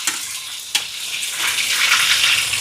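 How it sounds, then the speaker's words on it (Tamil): Mustard seeds tempering with curry leaves in hot oil, a bright spattering hiss that swells and thickens after a single sharp pop. "எண்ணெய் சூடாயிட்டிங்கால கடுகு சேர்க்குறேன்."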